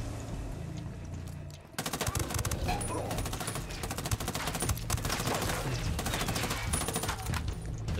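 Rapid automatic gunfire in Ghost Recon Wildlands, dense loud bursts of shots erupting after a brief lull and continuing almost without pause.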